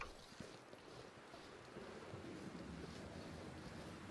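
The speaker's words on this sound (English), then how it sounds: "The wind's blowing" Wind blows steadily through a cold, snowy landscape in The Long Dark just after a blizzard, a broad, constant rushing roar with gentle swells and no talking.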